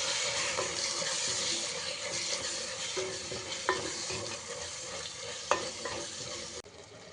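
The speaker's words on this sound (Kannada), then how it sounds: "ರುಬ್ಬಿರೋಂಥ ಮಸಾಲೆನ ಈ ಒಂದು ಇದಕ್ಕೆ ಮಿಕ್ಸ್ ಮಾಡಬೇಕು" Ground masala of pepper, cloves and cinnamon being stirred into chicken frying for chicken sukka: a steady close sizzle with repeated scraping stirs in the pan and a few sharper knocks, no voices.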